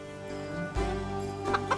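A chicken in Titan Quest II clucks in a few short, soft bursts over a steady bed of game music and ambience, fairly faint and without talk.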